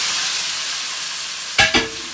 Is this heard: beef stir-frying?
yes